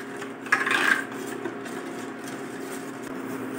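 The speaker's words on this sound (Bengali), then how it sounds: "এভাবে আমি নাড়তে থাকবো।" A spoon stirs watermelon pudding with sugar in a pot on the stove, with one brief scraping stroke followed by a soft, continuous rubbing texture.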